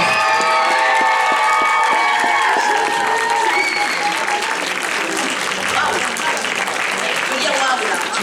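An audience at a cosplay contest award ceremony claps and cheers in a loud, steady wave of applause that fills the hall and holds strong throughout.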